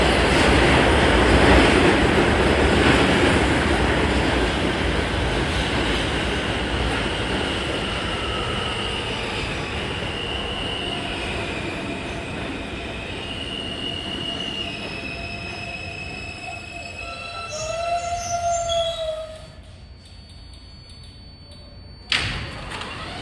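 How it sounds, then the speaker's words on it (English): A Jamaica-bound E express subway train rolls into the Sutphin Boulevard station, a loud steady rumble of wheels fading as it slows, with high wheel squeals rising near the end and a sharp thump just before stopping. "Here comes a Jamaica-bound train."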